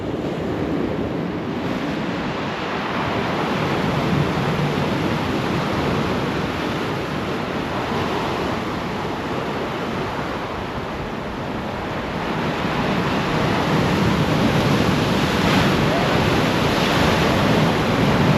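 Ocean surf washes continuously onto a beach on the coast between Augusta and Esperance, a broad steady roar of breaking waves mixed with wind buffeting the microphone, no voices.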